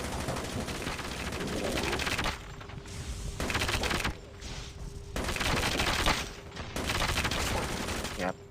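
Sustained bursts of automatic gunfire in the mobile shooter Call of Duty Mobile, loud and dense in several long volleys separated by brief lulls, with no talk over it.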